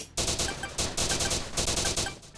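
Rapid gunfire bursts from the mobile shooter game Battle Gun 3D, loud repeated volleys of shots in quick succession with brief gaps, no talking.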